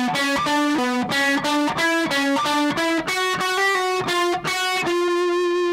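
Heavily distorted electric guitar plays the second sequence of a riff, rapid evenly picked notes stepping upward before ending on a held note, bright, loud and close, with no talking.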